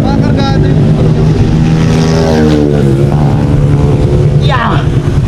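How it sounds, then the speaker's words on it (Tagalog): Loud motorcycle with a modified, tuned engine on the Marilaque mountain highway, a steady heavy drone running throughout with brief pitch sweeps as it passes, riders' voices mixed in. "Lakas ng motor niya, hindi ko mahabol."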